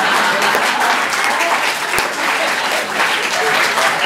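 Dense, steady applause from a live audience at a Hindi comic poetry gathering, filling the whole stretch without a break, loud and close, with no voices rising above it.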